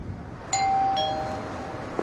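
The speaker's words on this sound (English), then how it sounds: "At least he's nice enough to ring the bell." A house doorbell rings a two-tone ding-dong, clear and near over a steady low background hum, with no talking.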